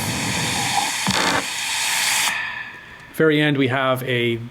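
A broad, steady hiss of a frying-pan sizzle sound effect fills the first half, then gives way to a short burst of tonal, voice-like sound.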